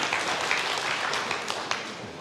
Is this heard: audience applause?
yes